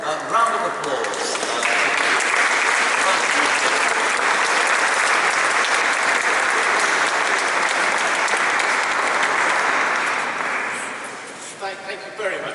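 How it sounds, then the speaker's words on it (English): An audience in a cathedral welcomes a speaker with a warm, sustained round of clapping that swells quickly, holds steady and full for about eight seconds, then tapers off into scattered claps. "I would ask everyone to give you a warm round of applause"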